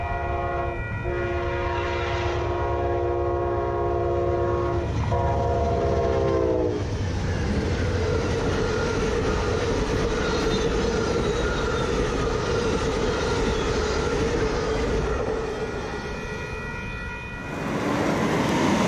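A fast-moving freight train passes close by, its horn blaring in long blasts for several seconds before giving way to a heavy rumble and rattle of rail cars rolling past steadily, with no talking.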